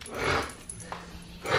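A small dog whimpers close by in a couple of soft, brief whines and yips that rise and fade within about two seconds.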